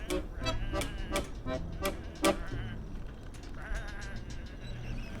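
Sheep in the video game Whateverland bleat repeatedly, several close, overlapping calls in quick succession over a steady ambient background.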